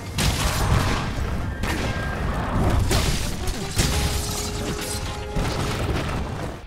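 Monster Hunter Gunlance combat, a dense barrage of loud explosive shelling blasts and clanking metal mechanisms, booming repeatedly without pause.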